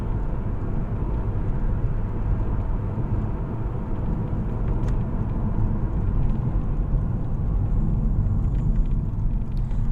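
Cars pass on a road near Bayview, Napier, heard from inside a moving vehicle as a continuous low rumble of engine and tyre noise, steady and fairly loud, with no talking.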